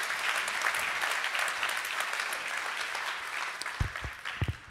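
Audience applause after a project presentation on a media library renovation, sustained clapping that gradually thins out, with a few louder isolated claps and thumps near the end.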